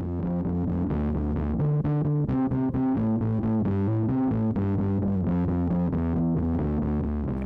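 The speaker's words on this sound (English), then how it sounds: "we should plug it into the MS-20, add some distortion that way instead of, like a pedal" An electric bass runs through the distortion of a Korg MS-20 synthesizer, playing a steady, driving riff of gritty, buzzing notes that shift in pitch at a constant loud level with no pause.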